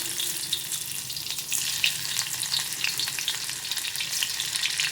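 Garlic sautéing in hot oil with cumin over a medium-low flame, an even close sizzle and crackle lasting throughout, with faint stirring and no talking.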